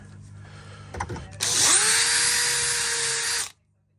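A locksmith's power drill bores new screw holes in a door frame for a moved keep: a couple of brief taps, then a loud, steady high whine for about two seconds that stops abruptly.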